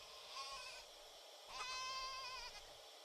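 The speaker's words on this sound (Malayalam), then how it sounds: "ആടുകളെ ലോറിയിൽ കയറ്റുന്ന കാഴ്ചയാണ് നിങ്ങൾ കാണുന്നത്" Two drawn-out goat bleats, close and fairly loud, separated by a short pause over a steady outdoor background hum, as goats are loaded onto a lorry.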